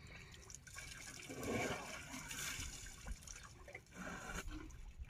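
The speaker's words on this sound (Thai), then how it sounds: "โอ้โหดูแข่งกันกินน้ำเหรอลูก" Wild elephants drinking water, a continuous splashing, sloshing gurgle of water with shifting swells, heard close and fairly faint without talk.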